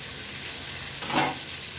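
A tomato fries in a hot pan, a steady close sizzle with a brief louder hiss of stirring partway through, no voices.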